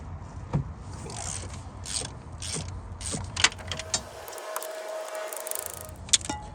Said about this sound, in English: now I got it on a regular ratchet, so I'm done messing around